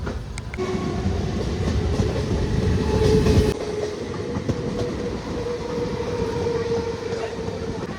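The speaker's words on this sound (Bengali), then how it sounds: "আমাদের ট্রেন এই মুহূর্তে এসে পৌঁছেছে নবদ্বীপ ধাম রেলওয়ে স্টেশন" A train rumbles steadily and clatters into Nabadwip Dham railway station, a continuous loud rolling noise with a shift in tone partway through and no voices.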